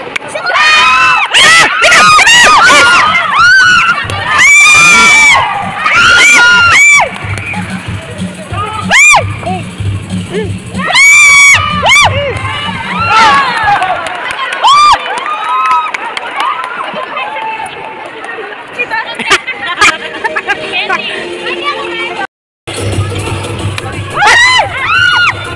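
A crowd of children shouts and cheers loudly and continuously at an event in Caloocan, with high excited voices and bursts of screams filling the space and talk mixed throughout.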